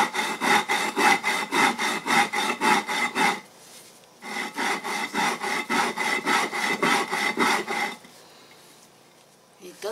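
A stone metate is cured by grinding, heard as close, rhythmic rasping strokes of stone rubbing stone, two bursts of about a dozen even back-and-forth passes each separated by short pauses, with no talk.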